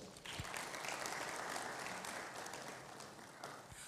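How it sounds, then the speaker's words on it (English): Sustained audience applause fills a conference hall at the Ghana Economic Forum, a dense wash of many hands clapping that starts abruptly and holds steady throughout, with no talk over it. "Let's welcome him with a round of applause."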